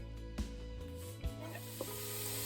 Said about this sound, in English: I am sauteing the chopped onion in olive oil and also the pan drippings from the chicken